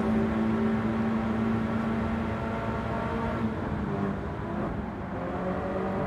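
A Subaru BRZ racing in Gran Turismo 7, its engine holding a steady droning tone at speed with a slight pitch shift later on and no talk over it.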